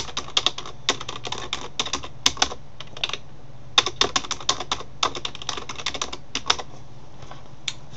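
Typing on a computer keyboard in quick irregular bursts of close, crisp keystrokes with brief pauses between runs, entering random letters and a password while signing up for a Reddit account.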